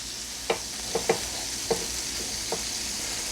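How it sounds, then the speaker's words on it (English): Mushrooms sizzling in butter and onion juices on a flat griddle, a steady bright hiss with several soft taps and scrapes from a spatula, close up and without voices. "I'm gonna put my mushrooms down and let them soak up in that onion juices and the butter"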